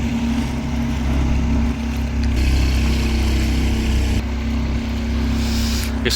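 A houseboat cruises across the water, its steady engine drone and hull wash forming a continuous low rumble that holds constant throughout, with no voices.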